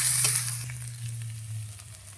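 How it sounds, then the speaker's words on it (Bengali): Onions frying in oil with ginger garlic paste produce a loud, close, continuous sizzle with a soft hiss, a few light crackles and a low hum underneath, heard with no voices. "পেঁয়াজটা লাল লাল করে ভেজে নেব।"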